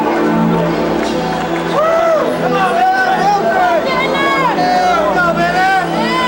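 Big crowd filling the Arco Arena in Sacramento before a boxing match, a loud steady roar of chatter and cheering with several voices calling out over the hubbub.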